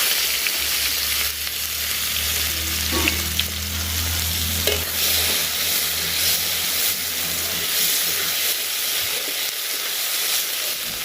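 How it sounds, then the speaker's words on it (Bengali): Chopped onion dropped into hot oil already tempered with dried red chili and cumin seeds, a steady loud sizzle and frying hiss running throughout with a few stirring scrapes, no voices. "এবার দিয়ে দেবো কুচিয়ে রাখা পেঁয়াজটা"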